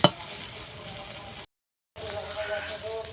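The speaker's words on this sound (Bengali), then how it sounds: "তো এইভাবে খুব ভালো করে ভেজে নেব।" Mustard flowers fry in a pan, giving a soft, steady sizzle with occasional stirring scrapes. A sharp clink opens it, and a brief dropout of silence splits it near the middle.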